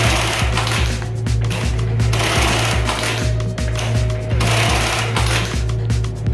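A Brother BE-438D button stitch machine runs in fast, even mechanical strokes with a steady motor hum, loud and close, cycling rhythmically with no talking.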